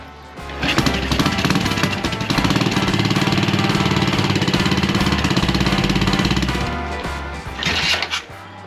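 A motorcycle engine close by, a loud, choppy, pulsing thrum that swells with the throttle and holds steady for several seconds, then fades into a few uneven bursts at the end.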